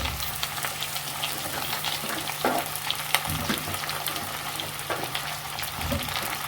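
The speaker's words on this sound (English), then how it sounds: "Then, after my butter is melted, I am going to add in my arrowroots." Arrowroots fry in melted butter in a pan with a continuous crackling sizzle, broken by occasional scrapes and clicks as they are stirred, close and steady with no talking.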